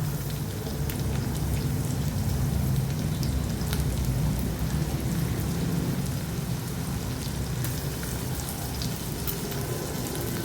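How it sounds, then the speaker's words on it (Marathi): Chopped onion, green chili and garlic sizzling steadily in hot oil in a pan, a dense continuous crackle with no voices, close and even throughout. "हे तेलावर परतून घेऊया."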